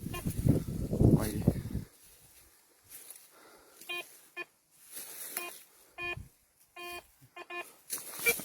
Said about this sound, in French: Parce que avec le détecteur, ça risque de sonner pas mal.